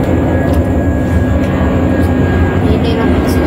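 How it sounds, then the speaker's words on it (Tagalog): A fixed-wing airplane passes overhead as a steady, broadband engine roar that stays loud and continuous throughout, with faint indistinct voices underneath it. "Kaya meron dumaan na aeroplano."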